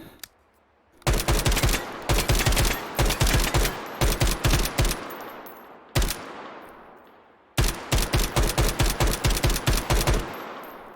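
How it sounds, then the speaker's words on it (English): Gunfire from an MCX LT Rattler rifle in a video game: loud close bursts of rapid automatic fire, several strings of rounds separated by short pauses, with sharp single shots and ringing tails between bursts, no talking. "some dumb shooting there, but this is the MCX LT Rattler"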